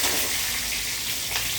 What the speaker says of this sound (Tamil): இப்போ கடுகு நல்லா பொரிஞ்சு வரணும்.